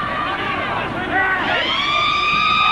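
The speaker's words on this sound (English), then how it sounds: "And there's the siren." An end-of-match siren at a 1984 National Panasonic Cup rugby league match, Penrith v Illawarra, wails with a rising, sustained tone over crowd noise and voices, swelling up and holding steady.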